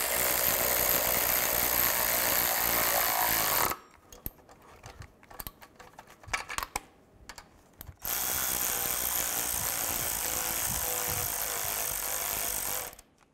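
Turbocharger nuts being tightened on a 2007-2013 Mini Cooper S: two long, loud bursts of steady mechanical tool noise, broken by a quieter stretch of scattered clicks and knocks.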